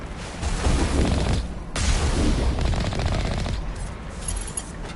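Sustained machine gun fire in the video game Mass Effect, rapid loud bursts of automatic shots over a rumbling battle, with a brief pause before the firing resumes and fades to scattered shots.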